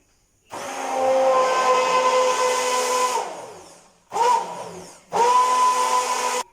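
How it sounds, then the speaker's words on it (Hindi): Electric blender whirring through a strawberry shake with milk in three bursts, one long run of about three seconds then two shorter pulses, steady motor whine with pitch drops as it stops, close and loud, no voices. "अब हम इसे ब्लेंडर की मदद से फिर ब्लेंड करेंगे।"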